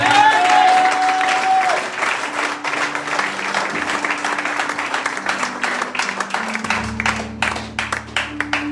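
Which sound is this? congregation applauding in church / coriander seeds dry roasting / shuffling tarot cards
congregation applauding in church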